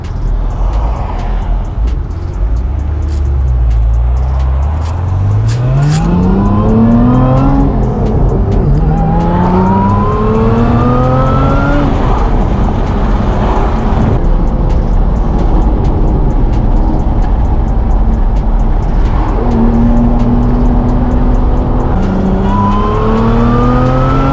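A Lotus Emira pulls out and accelerates onto Carmel Valley Road, its engine climbing through several rising gear pulls, loud and close, with steady road and wind noise underneath.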